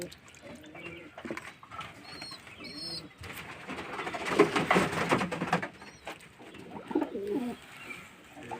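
Pigeons coo softly in a handful of low, throaty calls amid handling noises and a burst of splashing or rustling in the middle, close by and fairly quiet.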